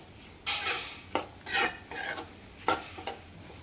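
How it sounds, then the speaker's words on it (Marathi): Jaggery stirred in a pan for Marathi pumpkin gharge: several scraping, rasping strokes of a spoon against the metal, close and distinct, in irregular bursts with short pauses between. "आता गूळ थोडा पातळ होईपर्यंत ढवळत राहायचं."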